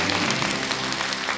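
Applause at a Chinese-language awards ceremony, where a community-group winner holds flowers for a group photo: steady, dense clapping from an audience, fairly close, with no clear breaks.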